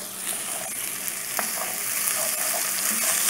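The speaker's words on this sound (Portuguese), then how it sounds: "Ele frita muito o arroz" Rice frying in a home kitchen pan gives off a continuous, close sizzle, with a few faint stirring clicks over the bright hiss.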